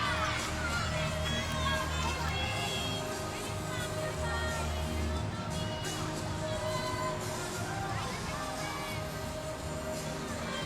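At a gymnastics meet, a large arena crowd murmurs and cheers with oohs and ahs, a steady distant roar mixed with shouts.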